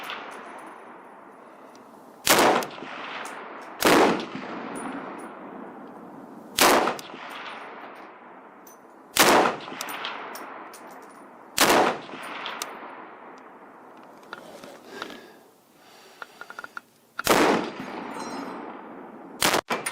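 A PSL-54 rifle fires about eight single shots at a target, each a sharp, loud crack with a long fading echo, spaced a few seconds apart with no talk between them.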